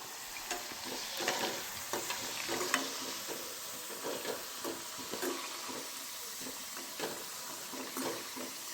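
A crispy snack fries gently on a low flame, with a soft steady sizzle broken by repeated scraping stirs and light clinks, fairly quiet and close.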